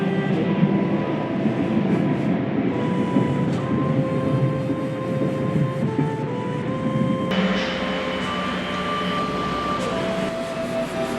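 A Chu-Kuang express train in Taiwan, heard as a steady rolling rumble with sustained tonal hums and a shift in pitch partway through, moderately loud and continuous.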